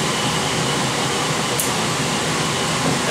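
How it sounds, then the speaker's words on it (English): The compressor of an L-Series dry kiln runs with a steady, dense broadband hum and airy hiss, constant and close for the whole span, with no talking. "Turn the compressor on,"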